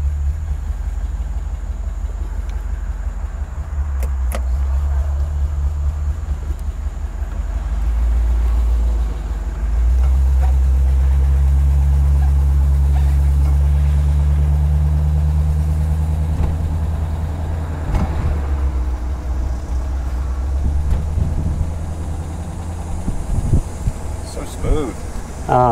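A 1956 Ford Thunderbird's engine hums steadily while driving, a low throaty drone that swells in the middle and settles, with road and cabin noise throughout and a person talking over it.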